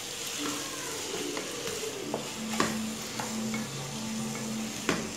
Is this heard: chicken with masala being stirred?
yes